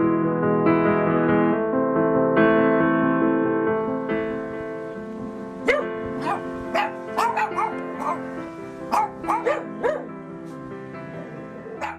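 A small rescued dog yips and barks in a series of sharp, close bursts, following a stretch of whining and whimpering near the start.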